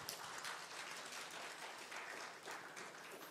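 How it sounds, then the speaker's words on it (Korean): A church congregation applauds newly introduced cell leaders, a dense, steady wash of many hands clapping that holds evenly throughout, soft and somewhat distant. "박수하겠습니다"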